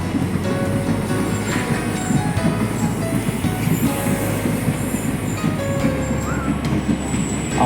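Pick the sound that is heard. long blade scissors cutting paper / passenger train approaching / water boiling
passenger train approaching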